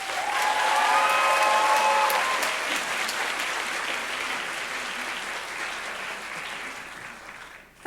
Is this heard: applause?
yes